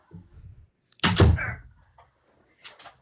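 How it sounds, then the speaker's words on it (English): A door swings shut with a solid thud, preceded by faint movement and followed by quiet room sounds and a couple of soft taps. "close the door"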